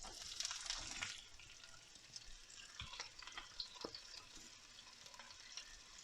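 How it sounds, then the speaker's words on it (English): Thinly sliced onions land in hot oil with spices, making a burst of loud sizzling that settles into a softer, crackling fry with light stirring, close and fairly quiet overall. "We're just going to add the thinly sliced onions."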